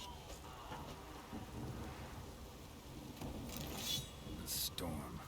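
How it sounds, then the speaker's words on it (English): A thunderstorm with rain in the Witcher 3 game sounds as a steady hiss of rainfall with low rumbling thunder rolling underneath and brief brighter crackles near the end, fairly quiet overall. "A storm, damn it."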